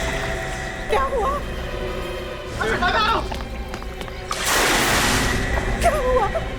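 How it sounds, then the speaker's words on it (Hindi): A person falls into water at a family function in a Hindi crime drama. The loud, broad splash arrives midway, with voices and other scene sounds around it. "ये तो किसी के पानी में गिरने की आवाज है।"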